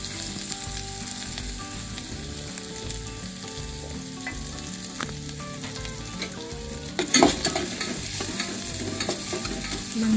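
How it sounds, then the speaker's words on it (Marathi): A ground paste of dry coconut, chili and cumin fries in oil for a fasting-style pithla, a steady close sizzle with scraping stirs and a sharper burst of crackling partway through. "हे जे आपण सुकं खोबरं, मिरची, जिरं वाटून घेतलेलं आहे ते त्याच्यामध्ये तेलामध्ये सोडून घ्यायचं."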